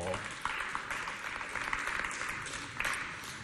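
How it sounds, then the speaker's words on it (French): Applause from an audience at a vacation youth event, faint and distant clapping with a few sharper claps standing out, carried under a busy room murmur. "On applaudit bien fort."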